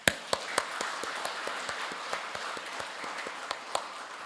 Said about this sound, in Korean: 우리 모든 권속들이 함께 기쁨의 환영의 박수를 드리시기를 바랍니다.